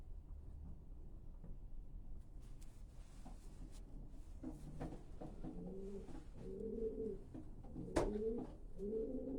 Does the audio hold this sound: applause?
no